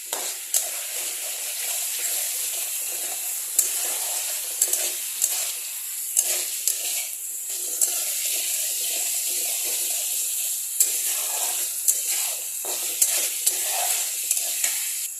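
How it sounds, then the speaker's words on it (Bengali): Fish curry masala with a little chili powder sautéing in a pan gives a continuous bright sizzle, with periodic scrapes and taps of stirring and no talk. "এখন এটাকে আরও 2 মিনিট মতো কষাতে হবে"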